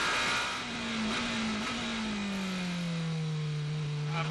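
Onboard engine of a race car during an endurance race, a loud continuous drone that holds steady and then sinks lower in pitch as the car comes off the throttle, with no talking.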